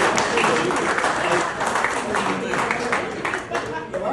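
A crowd at a gathering where a retired general is discussed claps in dense, steady applause throughout, with voices talking over it.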